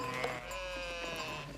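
Ewes in a flock of about 146 pregnant sheep bleat indoors, a faint wavering cry over a low steady background hum, with other distant animal noises mixed in.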